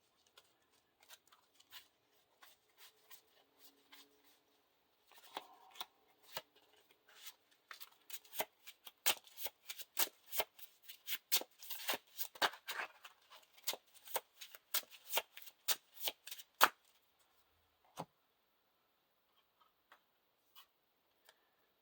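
Quick ripples of a Lord of the Rings card game encounter deck being riffled and shuffled close by, with scattered taps and soft card flicks before and after the main shuffle.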